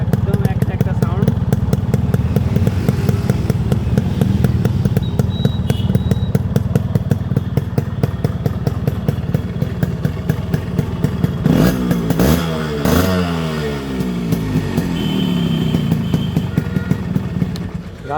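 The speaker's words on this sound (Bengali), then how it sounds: "আর গাড়ির সাউন্ডও কিন্তু খুবই সুন্দর আছে।" A Yamaha RX 100 motorcycle with a 100 cc engine runs close by with a rapid, steady two-stroke putter, then revs briefly around the middle before settling back, while someone talks over it.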